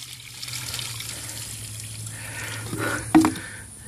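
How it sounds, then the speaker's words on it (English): Dirty, algae-laden water is dumped out of a pool filter cartridge, a low steady trickle and pour under a background hum, with a brief louder splash and clunk near the end. "I get rid of as much of the dirty water as possible"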